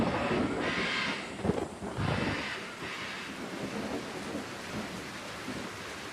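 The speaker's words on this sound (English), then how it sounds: "I hear thunder in the background." Deep thunder rumbles roll through a steady downpour during a storm in the Amazon rainforest, with heavy rain hissing on surfaces throughout and no voices.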